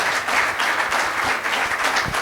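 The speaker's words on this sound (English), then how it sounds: "Please join me in applauding all these young professors." An audience at a conference session applauds some young professors, giving a dense, steady burst of clapping that carries through the whole stretch without fading.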